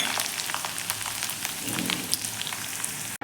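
Fenugreek seeds crackling in hot oil on a low flame for a tamarind-jaggery amti, a close, steady sizzle with fine popping, ending abruptly.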